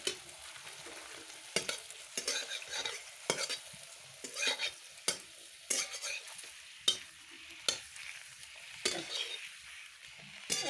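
Luchi puff and fry in a small amount of oil, a continuous bright sizzle broken by repeated scraping stirs of a utensil at a regular pace, close and fairly quiet, with no talking.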